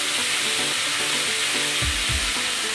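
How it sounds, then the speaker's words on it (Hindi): Chicken boti pieces frying in hot oil over a flame, a steady close sizzle that runs throughout with a couple of low thumps from the pan. "ये देखें हमारा चिकन पक रहा है"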